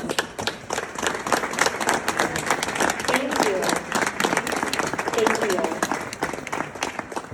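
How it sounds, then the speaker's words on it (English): A fundraising event audience claps for board members and volunteers, lively applause from a crowd under a speaker's voice giving thanks. "let us give you a big round of applause"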